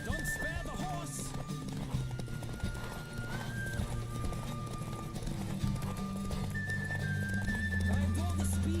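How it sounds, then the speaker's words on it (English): In a horse race in The Witcher 3, galloping hooves pound in a rapid, steady rhythm alongside whinnies and game music, while a voice speaks over the action. "Don't spare the horse."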